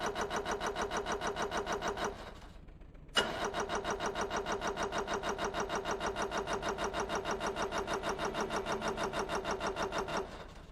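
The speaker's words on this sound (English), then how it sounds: "I heard you running the starter" A car engine starter in the game Stormworks cranks with a rapid, even chugging rhythm, pauses briefly, then cranks again steadily for several seconds before cutting off.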